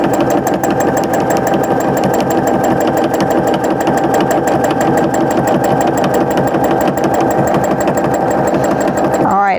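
A sewing machine quilting a fabric mug rug runs steadily at an even rhythmic pace, loud and close, while a person talks over it throughout.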